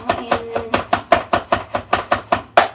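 Knife chopping garlic and black beans on a cutting board, a steady run of about a dozen close, crisp chops at an even rhythm with no talking.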